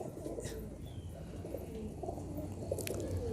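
Soft, low cooing from a female pigeon close by over a constant background rumble, with a faint chirp near the end.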